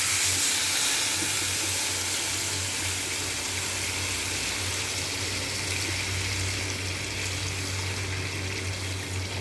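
Water poured into a hot pan of cooked, fried spices sends up a steady, loud hiss of steam that holds for about nine seconds, with no voices.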